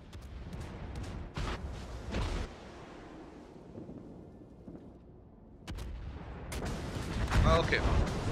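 Warship guns fire in the naval combat game World of Warships as a few heavy booming salvos over a constant engine and water rumble, with someone speaking German between shots.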